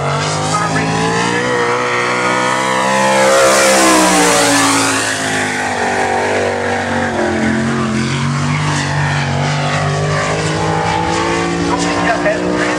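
A sprint car engine roars loudly at Can Am Motorsports Park during a race night, swelling as the car sweeps past around the middle and then holding a steady high drone, with an announcer talking over it throughout.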